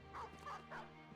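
Dog barks in the Battle Brothers video game, three short yipping barks spaced evenly, fairly faint over low background game sound.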